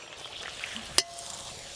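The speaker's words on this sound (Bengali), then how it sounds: "এই যে কড়াইশুঁটির কচুরিগুলো ভেজে নেব।" Green pea kachori frying in hot oil in a wok, a soft steady sizzle with one sharp pop near the middle, no talking.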